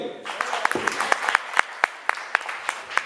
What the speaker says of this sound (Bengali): জয় হাততালি